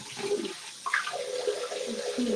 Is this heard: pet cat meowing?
no